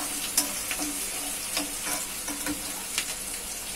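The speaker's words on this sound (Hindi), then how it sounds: "हल्का सा सौते करेंगे इसको। जब प्याज हल्की गुलाबी रंग की हो जाएंगे" Onions sautéing in a pan for namkeen seviyan, a steady soft sizzle broken by occasional scrape-and-stir clicks, close and fairly quiet with no talking.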